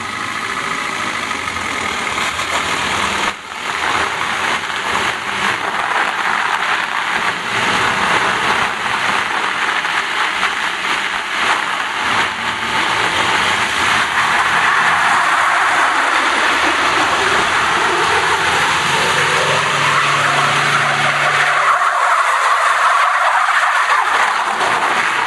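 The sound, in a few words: cars starting uphill on icy track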